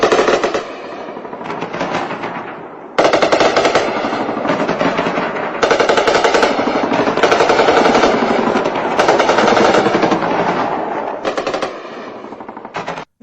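Sustained bursts of automatic gunfire during a Pakistani attack on Kashmir near the Nagrota area of Jammu, loud and rapid rattling volleys with brief pauses between them, continuing without any voices.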